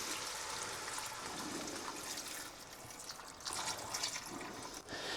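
Water pouring into a pot holding peas and ham for soup, a soft continuous splashing trickle that swells and fades slightly, faint and close.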